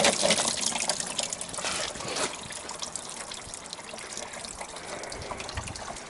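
Green engine coolant from a 1993 GMC Sonoma work truck splashes and trickles steadily during a cooling system flush, a close, continuous watery patter that is strongest at the start and then settles into a softer dribble.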